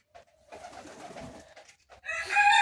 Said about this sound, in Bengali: এখানে আমার আকাশি কবুতর জোড়া আছে, 2 জোড়া।